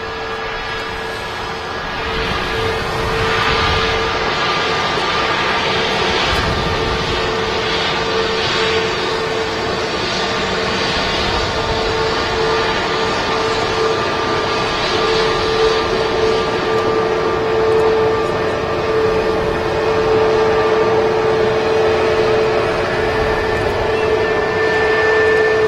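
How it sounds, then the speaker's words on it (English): A British Airways Airbus A320neo taxis out at Manchester Airport, giving a steady, sustained engine whine and hum with a constant tonal drone that stays fairly loud and even throughout, with no talk over it. "Just on the taxi out is a British Airways A320 Neo Shuttle 3 Mike, and that's heading back to London Heathrow."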